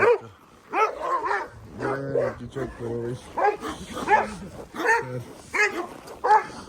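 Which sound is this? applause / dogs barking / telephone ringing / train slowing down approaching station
dogs barking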